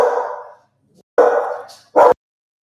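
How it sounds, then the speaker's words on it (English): A dog barks three times fairly close, loud sharp barks separated by short gaps, with silence in between. "The whole morning, no barking, right?"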